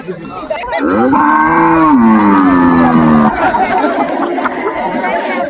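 A man imitates a buffalo's moo with a long, loud, sliding lowing call lasting about two seconds, while a crowd chatters and laughs around him before and after.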